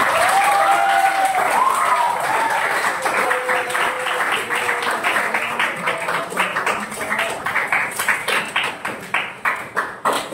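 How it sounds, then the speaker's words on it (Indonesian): Classroom applause from students at the close of a lesson, dense steady clapping that thins into scattered separate claps toward the end, with a voice briefly over the start. "kita kasih tepuk tangan untuk kita hari ini"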